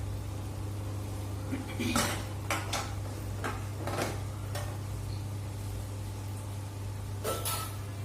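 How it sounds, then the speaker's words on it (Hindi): A metal lid placed on a cooking pot of chana dal curry, several sharp clinks and clatters of metal against metal over a steady low hum, close, with no talk. "थोड़ी देर के लिए मैं इसको बंद करके रख देती हूँ।"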